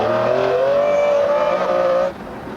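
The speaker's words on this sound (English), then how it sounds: "What the buyers of this McLaren F1 will want to do, and what you've all been waiting for me to do, is give it some stick." A McLaren F1 is driven hard, its engine loud and close, holding a high, strained note before the revs cut off abruptly.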